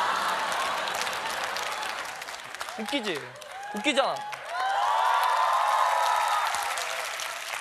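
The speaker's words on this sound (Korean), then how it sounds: "다들 억지로 박수치고 있군." Studio audience applause at a KBS comedy show: broad, steady clapping fills the opening seconds, drops away while someone talks, then swells again and carries on to the end.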